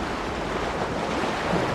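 Wind and surf on a beach while surfcasting, a steady broadband roar with wind buffeting the microphone, continuous and fairly loud with no speech.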